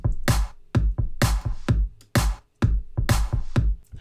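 Electronic claps in a dance track, each hit cut to a different length, sharp bright bursts over a thumping kick pattern, some ringing out longer than others, loud and close with no voices.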